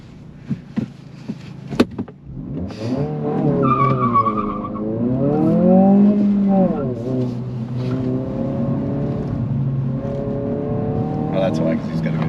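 A 2025 Honda Civic Si is driven hard, its engine rising and falling through revs while tires squeal in long wavering tones, loud and close, with people talking over it.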